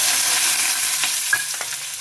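Dried red chillies, onion and curry leaves crackle and sizzle in hot oil, a steady bright hiss with a few sharp pops, no voices present.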